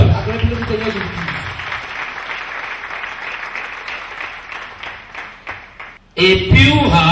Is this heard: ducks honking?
no